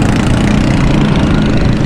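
A vehicle fitted with a loud exhaust silencer rumbles nearby on a Karachi street, a heavy, steady engine drone dominating the short stretch with no letup.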